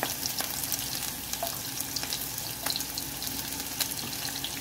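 Onions and green chillies frying in oil for wheat rava upma, giving a steady hissing sizzle with crackles and occasional stirring scrapes, close and even in loudness.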